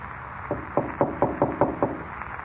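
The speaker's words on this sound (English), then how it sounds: "He knocked at the door and then skipped off down the corridor." Knuckles rap on a door in an office corridor in an old radio drama: a quick run of about seven evenly spaced, fairly loud knocks over a steady background hiss, with no voices.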